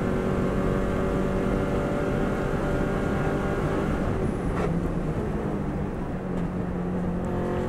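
Subaru WRX STI engine droning hard at speed on the Isle of Man TT road course, a loud continuous close roar with wind rush and a brief shift in tone near the end, with no voices.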